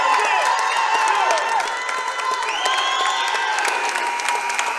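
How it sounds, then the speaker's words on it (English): A basketball crowd in a school gym cheers and shouts for the Lancers in maroon and Columbia blue, loud and sustained with whistles, squeaks and excited children's yells. "The Lancer crowd urging the maroon, the Columbia blue clad sock Lancers on."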